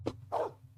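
A dog barking in the Blade Runner video game: two short, close barks in quick succession, fairly quiet, with a low background hum.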